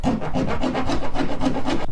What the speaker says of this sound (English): I'm going to use a file to make it bigger.